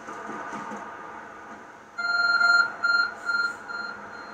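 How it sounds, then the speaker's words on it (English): A glowing object in the Pokemon Legends Arceus video game gives off a string of short, evenly spaced electronic beeps, clear and alone over faint background game music. "There's a glowing, beeping object over there."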